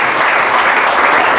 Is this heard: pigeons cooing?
no